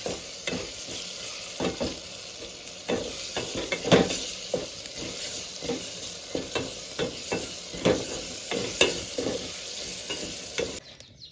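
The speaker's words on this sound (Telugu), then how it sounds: "ఇప్పుడు బాగా కలపాలండి." Samo rice upma with turmeric and salt is stirred in a hot pan, a steady sizzle under irregular scraping strokes of a spoon, close and fairly loud, with no voices.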